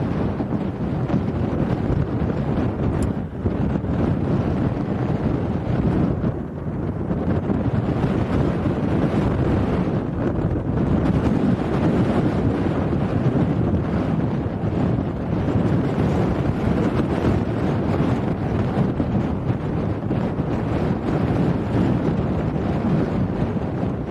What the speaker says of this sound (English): it blew all our equipment over in the wind